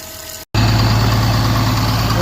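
A John Deere 648H skidder's diesel engine idles as it warms up, a loud, steady, close rumble that starts after a brief cut in the sound and continues evenly, with no talking.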